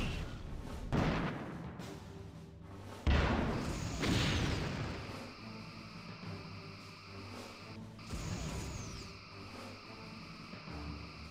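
Rear torpedo tubes firing from a starship in the Star Trek Bridge Commander video game: heavy booming launches with whooshing tails over a steady engine hum and a sci-fi drone, a few distinct blasts spread out.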